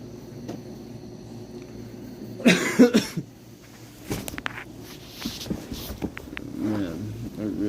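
A short burst of two or three harsh coughs from a nearby man, followed by quieter throat sounds and small scattered noises in a quiet room.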